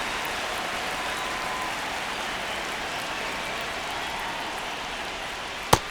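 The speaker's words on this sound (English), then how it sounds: "This rain is not letting up." Steady rain hisses evenly across the whole stretch in MLB The Show 26, a soft, constant wash of falling drops, ending with a single sharp click.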